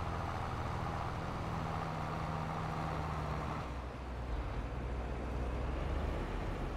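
A tractor engine in the Farming Simulator game runs steadily with a low rumbling drone, its tone changing slightly partway through as it keeps going without pause.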